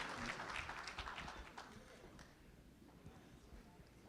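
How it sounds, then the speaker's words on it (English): Audience applause at an evening speaker event at the Richard Nixon Foundation, a dense patter of many hands fading gradually as it tapers off, fairly faint overall with some low murmuring underneath. "Let's have another round of applause for Tim"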